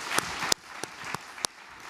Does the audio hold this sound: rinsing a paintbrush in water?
no